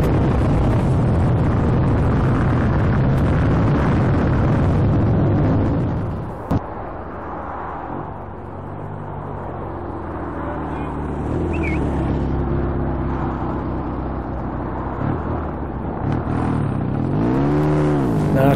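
A red BSA C15 motorcycle approaches at an open day, its engine loud at first, then a rising, wavering drone as it draws nearer near the end.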